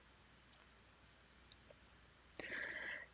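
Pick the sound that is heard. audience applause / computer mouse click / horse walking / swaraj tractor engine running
computer mouse click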